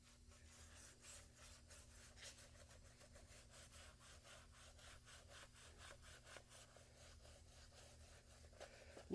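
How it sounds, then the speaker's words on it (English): A stiff tire brush scrubs a rubber car floor mat in steady back-and-forth strokes, a soft rhythmic rasping that stays fairly quiet and continuous. "and we'll start to do some scrubbing here."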